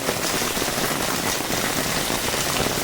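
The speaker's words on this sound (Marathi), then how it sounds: "पाऊस जोरात इकडे घडघडता" Heavy first monsoon rain in the Konkan village of Kumbhavade, Rajapur, a dense, loud, unbroken hiss of downpour drumming on surfaces close by, with no voices.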